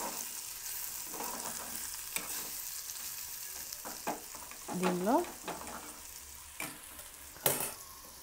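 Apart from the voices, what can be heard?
okra (lady's finger) frying in a pan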